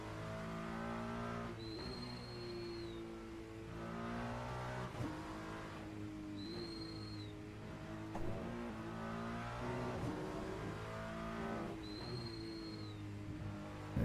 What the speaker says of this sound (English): Pavel Lindenthal being chased by a red and white BMW and trying to catch up to a black BMW.